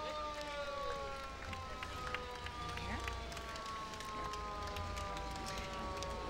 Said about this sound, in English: Those sirens that we're hearing right now can only mean one thing. The White Bear Lake Fire Department is making their way into the parade.